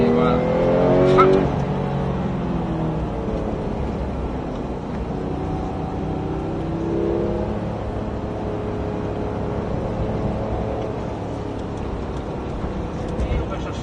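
A race car on the Haut Saintonge racing circuit accelerates and brakes, its engine pitch climbing and falling in sweeping harmonic bands, loud and close, while a driving instructor talks over it throughout.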